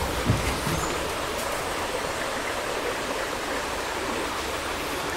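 A rainforest stream flowing beside a resort in Laos, a constant, full rush of water that stays close and steady throughout, alone with no voices.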